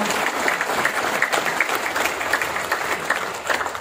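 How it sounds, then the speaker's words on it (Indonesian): An audience at a talk claps steadily for a speaker in a brief burst of even, moderately loud applause. "Tepuk tangan buat saya."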